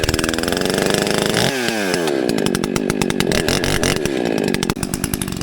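Chainsaw cutting down a dead tree outdoors, running loud and close the whole time, with the engine pitch dropping and rising as it bites into the wood and then settling into a rapid steady rattle.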